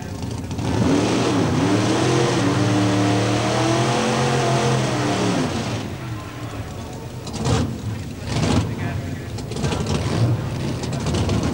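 Pro Modified drag racing cars at Santa Pod in 1993 roar loudly for several seconds with rising, swooping engine pitch, then fade into crowd noise and scattered claps.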